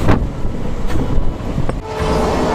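A train rolls loudly and close by on its rails with a heavy continuous rumble, a few sharp clacks from the wheels and a sustained horn-like tone underneath; no talking.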